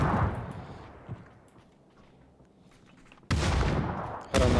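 Gunfire in PUBG during a competitive esports match on the Rondo map: a loud burst of shots at the start, a quieter stretch of faint distant pops, then two heavy loud volleys near the end.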